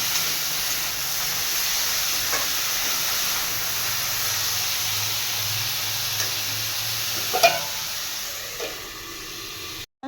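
Broccoli stalks fry in a pan with salt and turmeric, giving a steady, even sizzling hiss that runs throughout with a couple of faint clinks and no talking.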